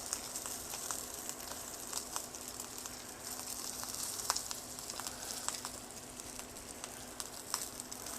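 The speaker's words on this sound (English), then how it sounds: "And we want to sear that fat. And hopefully this sizzles just like that." Fat on a pork chop sears in a hot pan, producing a quiet, continuous hiss speckled with small pops and crackles throughout.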